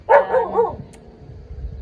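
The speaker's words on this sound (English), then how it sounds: "She is our new dog." A small dog gives two or three quick, close barks and yips in a tight run near the start, followed by quiet room tone.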